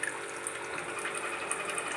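Grey water recycled from a washing machine runs into a bucket, a steady, soft trickle and splash of flowing liquid with no voices, continuous for its whole length.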